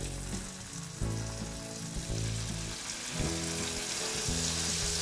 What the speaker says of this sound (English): Go ahead and put the venison in.